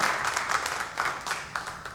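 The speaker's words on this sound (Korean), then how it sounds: "우리 먼저 박수 한번 할까요?" Conference audience applauding at a church forum with steady, moderately distant clapping that holds throughout.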